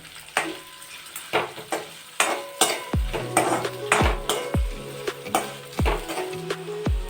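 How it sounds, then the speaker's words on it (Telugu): Cut onions frying in a pan, stirred with a metal utensil that knocks and scrapes in repeated clanks over a steady background sizzle, close and with no voices. "ఒక పెద్ద ఆనియన్ కట్ చేసి పెట్టిన ఆనియన్ ఇవి కూడా వేసేద్దాం. ఇవి కూడా బాగా వేయించుకోవాలండి."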